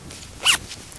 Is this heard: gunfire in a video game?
no